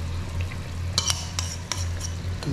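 Food fries in a pan while being stirred, with a steady sizzle under a low hum and several sharp utensil clinks and scrapes against the pan, close and without talking.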